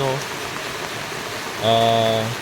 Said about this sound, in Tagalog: Yung ulan ba, pabugso-bugso, inaabot siya, nababasa.